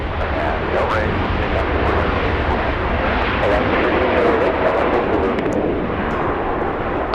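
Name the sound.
airliner taking off from LAX runway 24 left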